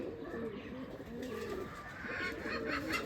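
A Rajshahi Giribaz pigeon coos softly amid a continuous low murmur of other birds, with someone talking over it throughout.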